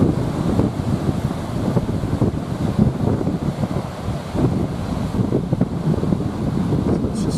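Tropical Storm Isaias winds roar steadily across a microphone at the Brigantine seawall, with churning surf rumbling underneath in a constant, loud wash and no one talking.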